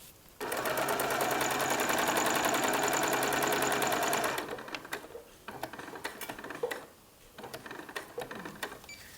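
Sewing machine stitching ribbon and lace onto elastic for a bridal garter, a fast steady mechanical whir for about four seconds, then stopping, followed by scattered handling clicks and rustles.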